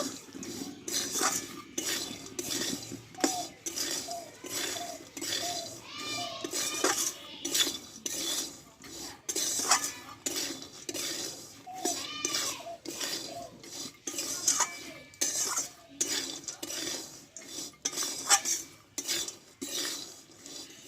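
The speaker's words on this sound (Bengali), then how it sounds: "দেখো বাদামগুলো দিয়ে কিন্তু মশলাটা একটু ভালোভাবে মাখিয়ে নিতে হবে" Peanuts being tossed and stirred with spices in a metal bowl or pan for a spicy homemade snack, with repeated scraping and clinking of a spoon against the vessel in an uneven rhythm, close and alone.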